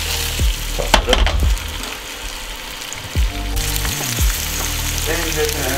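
Breakfast food with pepper is tossed in a frying pan, loud sizzling broken by several clattering bumps and scrapes of the pan, with brief talk underneath.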